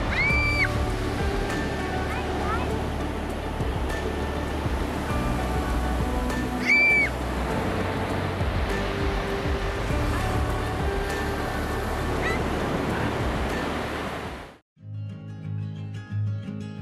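Ocean surf rolling onto the black sand shore of Diamond Beach, Iceland, where icebergs wash back in; a loud, steady roar of breaking waves that cuts off abruptly near the end, no voices.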